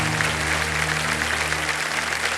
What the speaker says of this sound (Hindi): तालियां बज जा सकती हो।